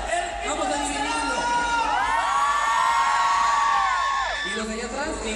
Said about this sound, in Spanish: mi público de este lado grita más que el tuyo